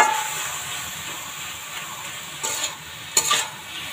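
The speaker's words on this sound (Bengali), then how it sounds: "আরো লাল শাক ভাজি হচ্ছে" Red amaranth greens fry in a pan with garlic, cumin and onion, giving a steady soft sizzle, with a couple of brief stirring scrapes near the end and no talk.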